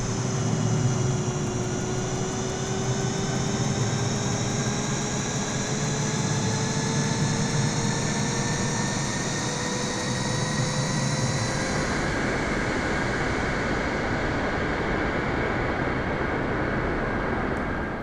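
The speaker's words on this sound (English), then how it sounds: "let's go ahead and jump to the engine start and take off so we can see how she flies" A Boeing 777-200ER taxiing in Microsoft Flight Simulator, its jet engines giving a loud, continuous whine with rising tonal layers that shift in pitch partway through over a steady roar.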